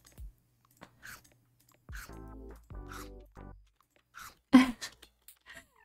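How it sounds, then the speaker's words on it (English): A crunchy mushroom being eaten in the video game Ooblets, heard as a few sharp, brittle crunches in quick succession near the end, with people chatting before. "I love how crunchy it sounds when it's a mushroom."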